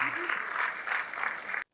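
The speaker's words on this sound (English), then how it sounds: "give ourselves a round of applause" Audience applause at a creative-industries weekend event in Africa, a dense steady wash of many hands clapping together for nearly two seconds before cutting off abruptly.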